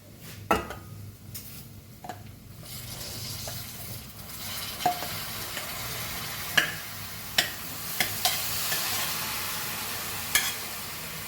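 Cooked cauliflower frying in a pan for a Goan bhaji, with a soft continuous sizzle broken by scattered clinks and scrapes of a spoon stirring against the pan, close and fairly quiet, with no voices.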